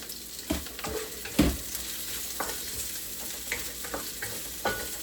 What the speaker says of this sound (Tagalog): Sabagyan natin ang onion.